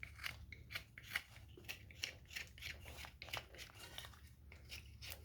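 Knife carving the back edge of a wooden angel figure: a steady series of short crisp cutting and scraping strokes, close and fairly quiet, with no talking.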